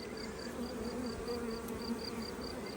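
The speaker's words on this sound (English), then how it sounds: "So the bees still come and go" Honeybees buzz around a heavy, full frame being moved from a nuc hive, a steady close drone with a faint higher whine running through it and no talk.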